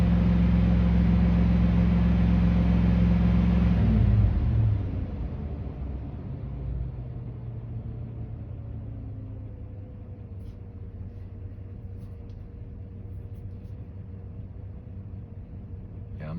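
A Workhorse 8.1 engine drones steadily at high RPM, a loud low hum that drops sharply after about four seconds to a quieter, even idle-like rumble that continues to the end.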